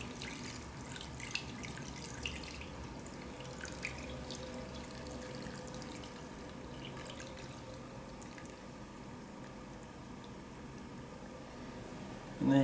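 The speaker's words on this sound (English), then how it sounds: "I'm just going to slowly pour in my jelly" Liquid jelly trickles and drips softly as it is poured slowly into a Christmas trifle, a faint, steady wet patter heard close up and alone.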